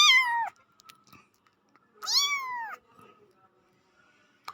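A person imitates a cat meowing while playing the Roblox game Dead Rails: two drawn-out, wavering meows, close and clear, with small clicks and shuffles between them.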